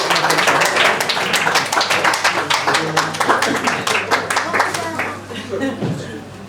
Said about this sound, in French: Et là, on l'applaudit, hein